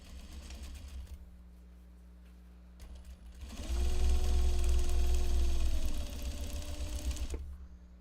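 A sewing machine top stitching triangle project pouches runs in a steady, close, humming burst of rapid stitching for several seconds, with quieter handling before and after.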